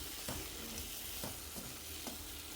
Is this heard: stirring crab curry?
yes